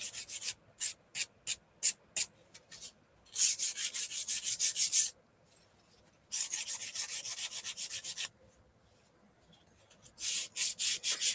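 Sanding around a painted wooden craft piece to bring back a black outline: short rhythmic rubbing strokes, then longer runs of steady scraping with pauses between, close and fairly quiet.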